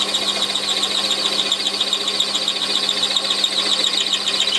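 A Warco lathe mills out metal, giving a continuous steady high squeal with a faint hum beneath, even and unbroken throughout with no talk.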